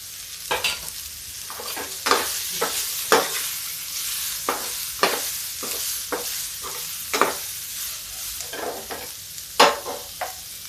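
Potatoes frying in a pan on a gas stove on low heat, a constant sizzle broken by repeated sharp scrapes and clacks of a spoon stirring, irregular and close up, with no voices.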